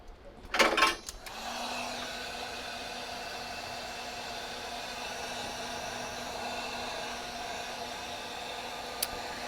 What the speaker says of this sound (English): Get the heat gun on there and get them dried up.